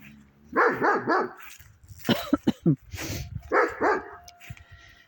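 Dogs bark in the background of a garden with juniper plantings, several sharp barks in short clusters mixed with a person talking nearby.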